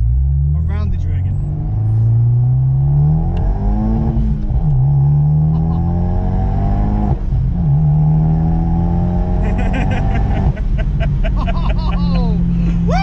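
A 240 HP Abarth revs hard along the winding Tail of the Dragon road, its loud engine climbing and dropping through gear changes close to the cabin, while occupants talk excitedly.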